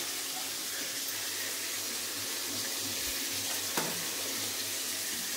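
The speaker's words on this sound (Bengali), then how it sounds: "দেখো মাছ ভাজা চলছে" Fish frying in a pan gives off a steady, broad sizzle that continues evenly throughout, with one brief clink partway through.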